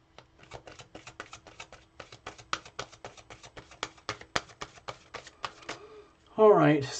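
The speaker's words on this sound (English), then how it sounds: "I'm going to shuffle up the cards now," A deck of tarot cards is shuffled by hand in a quick, steady run of crisp riffling snaps, close and fairly soft, ending with a louder rustle as the cards are squared.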